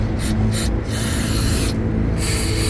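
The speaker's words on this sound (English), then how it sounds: "Spray it, flip it over, spray it on the other side." Cleaner sprayed onto the throttle body of a Dodge Challenger in several bursts: short close hissing sprays, then a longer sustained blast, a pause, and another long spray.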